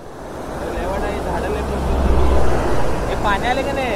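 A swollen river after rain rushing under strong pressure, a loud continuous roar of moving water with a broad steady wash that rises slightly midway, while people talk over it.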